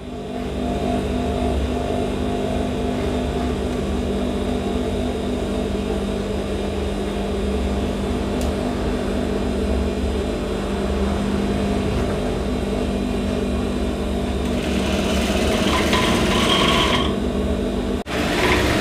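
A sewing machine stitches steadily while a thin cord is turned along with the seam, giving a continuous close mechanical whir that briefly rises toward the end, then cuts off sharply.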